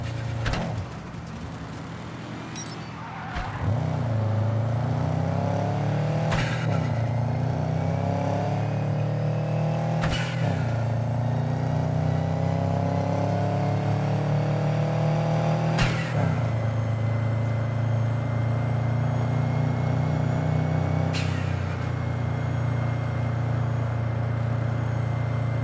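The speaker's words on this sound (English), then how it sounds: "Go ahead, kill the engine." A car engine in Cyberpunk 2077 drones loudly and steadily, its low rumble rising after a brief lull near the start, with a few sharp clicks cutting through the sustained hum.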